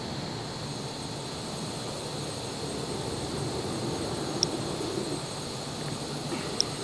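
Steady roar of F/A-18 jet engines from the DC Designs F/A-18C in Microsoft Flight Simulator 2020, near RAF Waddington, a constant broadband rumble with two faint clicks near the end.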